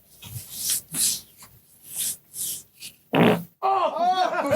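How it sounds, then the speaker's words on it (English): Comic fart noises in a short funk music track, coming in a string of separate bursts and then a longer buzzing, flapping run near the end, loud and close with no talk over them. "the fart track just made up for everything"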